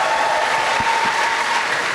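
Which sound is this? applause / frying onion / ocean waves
applause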